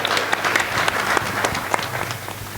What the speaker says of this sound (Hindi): आकाश पर तालियों से गुंजायमान करें आएंगे जी को।